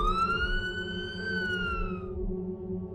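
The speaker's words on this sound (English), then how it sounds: "I hear sirens in the background" A police siren wails loud and close in a single long rising then falling tone, cutting off near the end over a low rumbling background.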